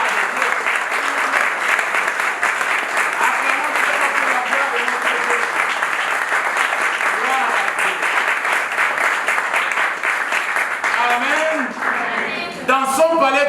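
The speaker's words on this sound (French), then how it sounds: "Est-ce que nous pouvons acclamer très fort pour la gloire?" A church congregation applauds loudly at a worship service: dense, sustained clapping fills the space for the whole stretch, with voices rising near the end.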